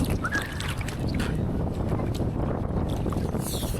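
Strong wind roars steadily across a beach at Dingalan, Aurora, where big waves are breaking, a constant close, loud rush buffeting the microphone.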